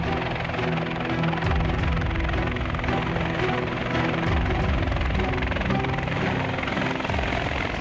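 A TNI Air Force Caracal military helicopter flies nearby, its rotor chop and turbine roar loud and continuous throughout, with voices faintly mixed underneath.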